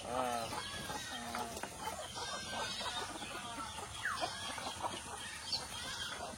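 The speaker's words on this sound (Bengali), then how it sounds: "দেশি মুরগি বেড়াচ্ছে আমার বাড়ির" Free-range village chickens clucking around a house, with several hens giving soft, broken clucks at close to middle distance, faint and without talking.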